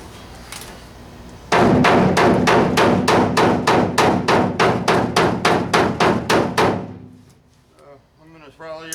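Rapid, evenly spaced hammer blows ring out loud and close for about five seconds, then stop, followed by faint voices in the background.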